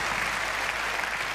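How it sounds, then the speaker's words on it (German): An audience at the Goldene Kamera Digital Award show in Berlin applauds, a dense, loud, continuous wash of many clapping hands filling the whole moment. "Applaus für Alex und Melanie von Parkour One."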